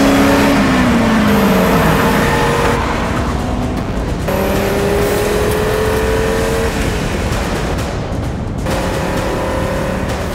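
Audi RS3 five-cylinder engine revving hard and loud, rising and dropping through several throttle blips and gear changes, with no talk over it.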